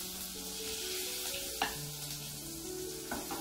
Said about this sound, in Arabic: حنبدا نحط الزبده ونخلي الزبدة سيح معانا